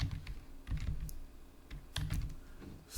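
Keys tap on a computer keyboard in short quiet clusters of clicks with brief pauses, close and soft with no talk.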